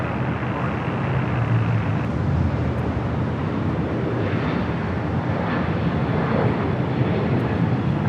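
Jet airliner landing on runway 24 right at LAX, Los Angeles airport, a broad steady engine roar with rushing wind, loud and continuous across the whole stretch.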